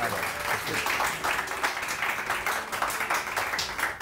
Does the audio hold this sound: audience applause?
yes